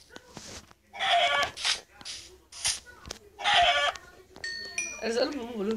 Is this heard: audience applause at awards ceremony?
no